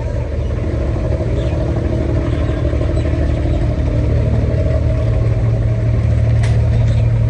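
A boat engine drones steadily during a boat ride in Dubai, a loud, even low rumble with light clatter running unbroken throughout, no one speaking over it.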